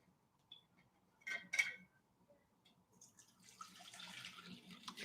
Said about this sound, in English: I'm going to get some water in my water bowl here.